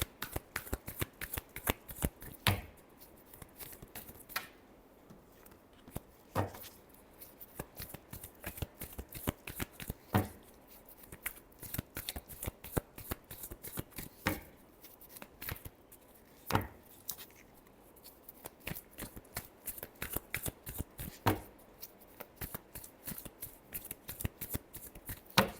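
Tarot cards are shuffled by hand in repeated quick riffling bursts, crisp papery flutters and slaps recurring steadily and close up, with little talk.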